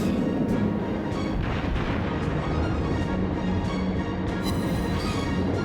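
Naval guns fire and shells strike in a World of Warships battle, a dense wash of rumbling blasts with repeated sharp booms punctuating it, continuous and fairly loud, no speech.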